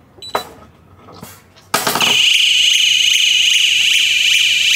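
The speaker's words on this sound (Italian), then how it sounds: "io voglio provare, non so assolutamente come funzioni la cosa dell'antifurto" After a couple of faint clicks and a short pause, a gadget-style anti-theft alarm for a motorbike or car bursts on and stays loud, a shrill continuous electronic siren with a rapidly warbling tone filling the rest of the clip.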